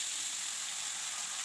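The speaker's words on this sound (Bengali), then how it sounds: "এবার কুচিয়ে রাখা বাঁধাকপি আর আলু দিয়ে দেব।" Chopped cabbage and potatoes go into a hot pan of fried onion and green chilli, producing a short burst of bright, even sizzling hiss with no talk.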